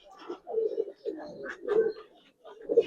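Giribaz pigeons, a coloured tumbler breed, coo in a series of low, throaty phrases, about five bursts spaced roughly half a second apart, fairly close and with no talking over them.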